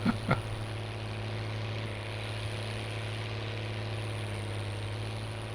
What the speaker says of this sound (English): Really like this case tractor.